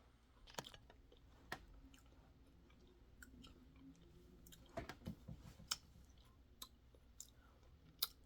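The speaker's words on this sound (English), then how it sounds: "Chewing" Close, quiet chewing of breakfast food, with irregular crunchy clicks and bites spread across the stretch under a soft, steady room background and no talk.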